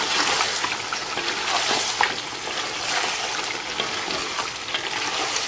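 Fried bitter gourd (karela) with onions being stirred in a pan, a steady loud sizzle with scraping and tossing running continuously.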